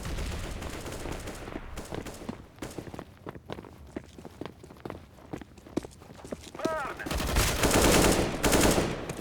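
Rapid gunfire bursts and footsteps from a competitive match of Counter-Strike: Global Offensive, loud sharp shots in irregular volleys with a rising electronic tone near the end and faint voices underneath.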